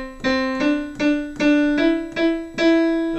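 Opening phrase of a song played on piano at beginner level: six clear, evenly spaced notes in a lilting rhythm, each ringing briefly before the next, close and alone.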